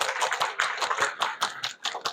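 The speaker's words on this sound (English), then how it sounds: "give yourself a round of applause" An audience at a student leadership conference claps in a quick, dense burst of applause that is close and fairly loud, with no voices over it.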